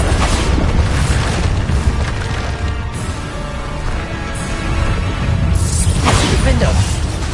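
Bombarda explosion spells go off in Hogwarts Legacy, booming crashes and whooshes in quick succession amid constant dense game noise, with a voice shouting over the blasts.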